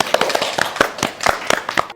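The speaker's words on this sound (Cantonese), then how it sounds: "我哋俾掌聲佢。" A small studio audience claps briefly for a guest at a Cantonese talk show on Chinese traditional culture, a quick burst of close, sharp hand claps.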